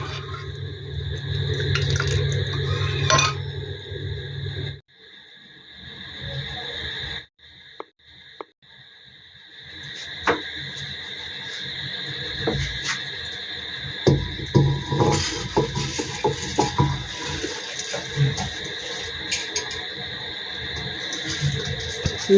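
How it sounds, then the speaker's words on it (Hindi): Crickets chirp at night as a continuous, shrill, high-pitched drone, briefly dropping out early on, mixed with scattered knocks and clicks nearby. "ये जो आपको शोर सुनाई दे रहा है, ये झींगुर की आवाज़ है।"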